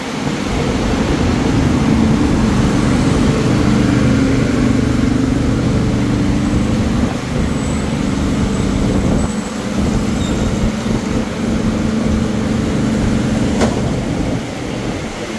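Two trains, Special Express 40 and Rapid 171, pass each other at Ban Pong station in heavy rain, giving a low, sustained rumble of rolling stock under a constant rain hiss, loud and close throughout.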